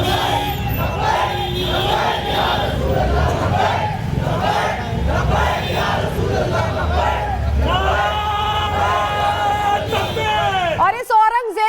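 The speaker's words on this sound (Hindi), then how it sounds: "यहाँ पर जो भीड़ थी वो एक तरह से भड़काऊ नारेबाजी करने लगी।" A large crowd chants and shouts inflammatory slogans in rhythmic bursts during unrest in Nagpur, loud and continuous, with massed voices roaring together before a sudden cut near the end.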